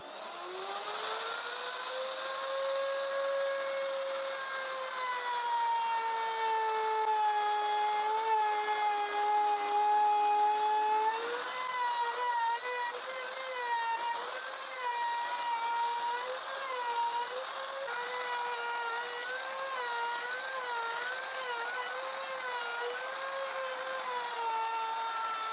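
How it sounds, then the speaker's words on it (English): Woodworking router cutting a very wide groove in a piece of wood held between two screwed-down strips, a steady high whine with shifting pitch running loud and close throughout, no voices. "And now I can route the very wide groove between both strips."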